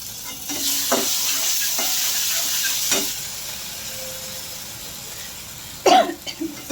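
Spice masala sautéing with Schezwan sauce in a pan for veg frankie filling, a low steady sizzle with a few soft spoon scrapes and a louder clatter of stirring near the end.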